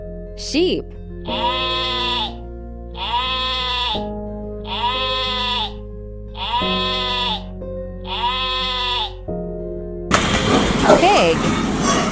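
Sheep bleat in a row of five or six evenly spaced wavering calls over a steady music bed, followed by a short burst of broadband noise at the end.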